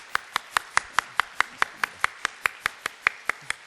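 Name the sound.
audience applause welcoming church visitors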